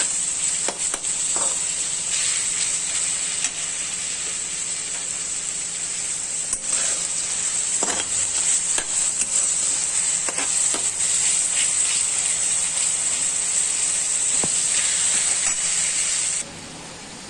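Chopped onions sautéing in a pan for methi bhaji, a loud continuous hiss and sizzle with scattered crackles and brief clatters, dropping away near the end.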